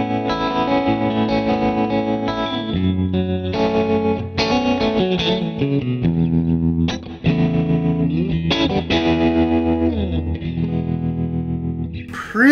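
A G&L semi-hollow electric guitar runs through distortion, chorus and other effects, playing a melodic scale run with sustained, shimmering notes at steady volume.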